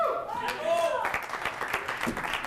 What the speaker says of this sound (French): Un peu d'applaudissements, ça serait gentil.